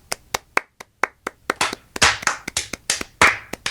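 Scattered hand claps from a few people on a podcast call, about fifteen sharp, uneven claps over a few seconds, growing denser and louder toward the middle, close and clear with no talk.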